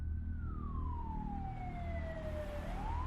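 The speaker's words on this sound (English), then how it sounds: "the sirens reached a fever pitch as the ambulance arrived on the scene" A wailing ambulance siren sweeps slowly down in pitch over a steady traffic rumble, loud and close, then begins rising again.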